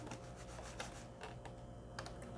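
Loose keycaps on a Corsair K70 mechanical keyboard rattle and click in quick irregular bursts as the plastic shroud is lifted off, faint and close.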